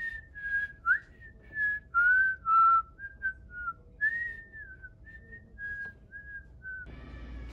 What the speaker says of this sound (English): I can whistle Kill Bill